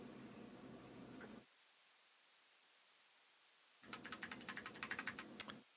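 Typing on a computer keyboard through a microphone with noise suppression, a quick run of soft clicking keystrokes near the end after a stretch of hissing noise and near silence.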